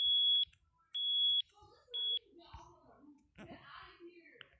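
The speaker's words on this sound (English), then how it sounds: "If I test the smoke detector, while it's resetting, I'm gonna test it anyway." Three loud, high-pitched smoke alarm beeps sound in quick succession during a test at an airport, followed by quieter clicking and someone talking nearby.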